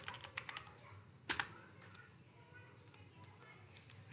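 Computer keyboard keys tapped while entering and confirming a password during software installation, with a few quick clicks early, a brief cluster in the middle and sparse taps later, all faint over a low room hum.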